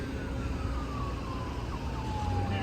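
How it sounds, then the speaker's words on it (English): Police car sirens wailing along a Washington, DC street blocked off by Secret Service and police, a steady descending wail over loud traffic rumble, moderately distant and continuous. "More police cars coming down the street."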